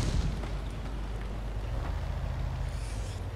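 Artillery shells land in a World of Tanks battle, a continuous rumbling wash of distant booms and explosion noise with scattered pops and cracks, heavy low-end throughout and no voices.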